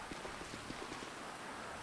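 Heavy rain falls in the GTA 5 video game while a boat moves over the sea, a steady soft hiss with faint scattered patter running evenly throughout.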